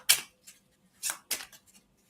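Tarot cards being shuffled by hand, quick papery riffles and slaps in irregular bursts separated by brief silences, close and clear with no voices.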